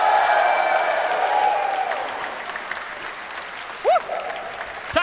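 A live esports crowd at a Fortnite LAN event in Edinburgh applauds and cheers, a dense wash of clapping that swells loudly at first then eases, with a few whoops rising near the end.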